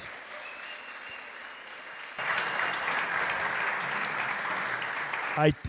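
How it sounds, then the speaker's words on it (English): Audience applause at a squash event, the Namibian Open final, rising suddenly into steady broadband clapping that continues under the room's ambience, with a brief louder burst near the end. "Can you give yourself a round of applause?"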